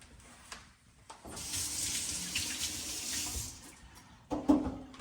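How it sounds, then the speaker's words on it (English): Water streams from a kitchen tap for a few seconds as hands are rinsed under it, a steady close splashing hiss that starts abruptly and ends with a couple of soft clunks. "I'm going to rinse my hands off"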